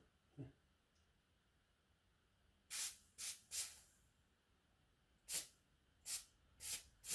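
Short hissing spray bursts aimed at an engine piston during a decarbonizing job, coming in two quick clusters of three or four puffs each, crisp and close against quiet background.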